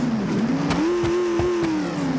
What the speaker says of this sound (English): We have a working exhaust.